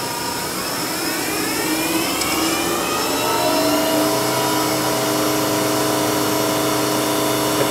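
A Tree Journeyman 425 knee mill's spindle runs at a steady 6000 RPM after warm-up, a loud continuous high whine with a smooth mechanical hum, heard alone and unchanging throughout.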